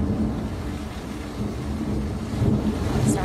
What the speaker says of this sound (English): Over in Wrightwood, roaring thunder captured on camera.